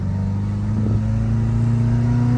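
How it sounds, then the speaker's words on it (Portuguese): Volkswagen Beetle engine idling with a steady low rumble, then a quick short rev near the start before settling back into a constant close, loud drone, with no voices. "Torquezinho do Fuscão no motorzinho."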